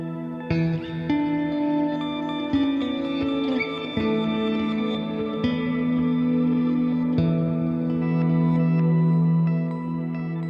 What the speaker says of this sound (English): now we're on 1978 plate version 2. So this is a beautiful reverb